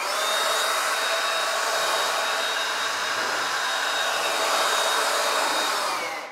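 A blower roars steadily close by, drying water off a car surface freshly coated with Turtle Wax Minute Wax, a loud continuous airy rush that holds for several seconds before easing off at the end.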